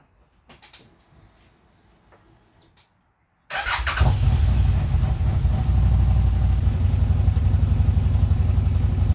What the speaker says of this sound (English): now I'm going to fire up the Zforce and circulate the oil through the engine and the filter.